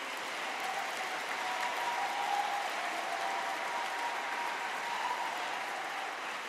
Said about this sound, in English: How about a round of applause for our Sleek Geek finalists?